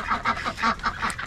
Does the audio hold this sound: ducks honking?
yes